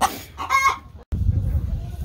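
Close chickens in raised garden beds give a few short clucks and squawks, broken by a brief silence, then a low rumbling background.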